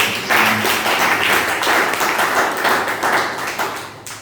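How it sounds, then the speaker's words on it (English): An anniversary event audience breaks into a round of applause, a loud, close wash of many clapping hands that holds steady for several seconds with slight swells before tapering. "Please, a round of applause."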